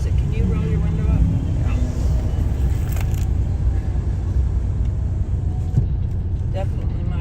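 Steady low engine and road rumble inside a moving Jeep cabin, loud and continuous throughout, with people talking faintly over it.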